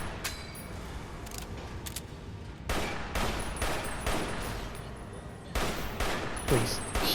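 Bursts of gunfire ring out in Fallout New Vegas, several loud sharp volleys in quick succession with short gaps between them, close and harsh, over low background game noise.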